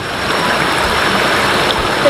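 Floodwater rushing across a broken road after overnight rain, a steady loud wash of flowing water with no pauses, close by and continuous throughout.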